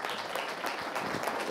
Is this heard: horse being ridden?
no